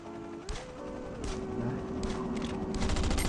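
Repeated gunfire bursts from the survival video game Last Island of Survival, with sharp shots and rapid fusillade-like volleys over a steady game background tone, growing denser toward the end.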